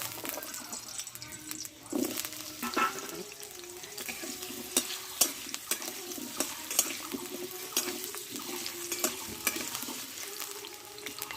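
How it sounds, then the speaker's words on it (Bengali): Potatoes fry in a little oil for a jackfruit curry, a low continuous sizzle under repeated clicks and scrapes of a spatula stirring the pan, close and moderately quiet throughout. "এবার এতে আমি আরেকটু অল্প তেল দেব, দিয়ে এবার আমি আলুটা ভালো করে কষে নেব।"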